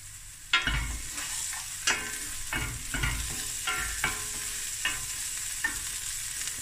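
Onions fry in a pan with a steady sizzle, broken every second or so by sharp stirring scrapes of a utensil against the pan, close and moderately loud.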